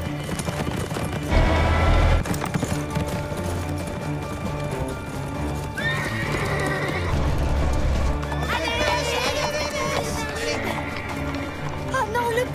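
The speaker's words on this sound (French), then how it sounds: "Il faut éloigner les chevaux de la piste." Horses whinny and hooves clip-clop near a riding track on a ranch, mixed with music and voices throughout, with louder bursts of activity around the second and eighth seconds.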